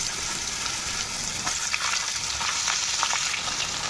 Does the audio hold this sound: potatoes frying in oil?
yes